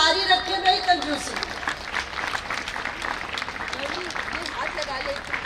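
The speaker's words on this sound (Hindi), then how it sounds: "ताली जारी रखे भाई" An audience at a memorial lecture in India claps steadily for several seconds, a dense patter of applause running under a voice.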